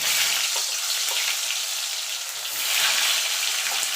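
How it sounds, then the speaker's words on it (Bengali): Potatoes fry in hot oil for a spicy Bengali egg curry, giving a steady, dense, close sizzle with faint crackles throughout and no voices. "এবার এই তেলে আলুগুলো আমি ভেজে নেব।"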